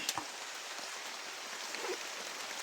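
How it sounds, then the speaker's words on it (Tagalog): Heavy rain falls outdoors in a steady, dense hiss of drops on surfaces, moderately loud and unbroken, with a few faint brief noises over it. "Lakas ng ulan."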